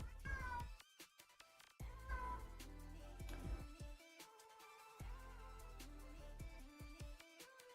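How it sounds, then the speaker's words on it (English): A pet cat meows a few times indoors at night, short tonal calls standing out over background noise and clattering. "my cat is meowing"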